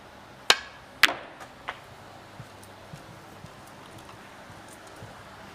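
A snooker cue strikes the ball with a sharp crisp click during a Championship League match, and a second louder knock follows as balls collide, then fainter taps fade out in a quiet arena.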